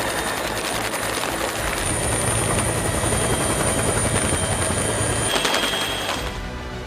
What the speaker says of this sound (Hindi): कुछ लोग जान बचाने के लिए पेड़ और घर की छत पर चढ़ गए, जिनका सेना के हेलीकॉप्टर्स ने रेस्क्यू किया